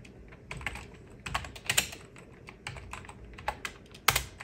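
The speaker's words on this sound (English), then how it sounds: "Typing in our password." A computer keyboard is typed on in short, irregular bursts of close, crisp key clicks while a password is entered at a 2013 Mac Pro terminal.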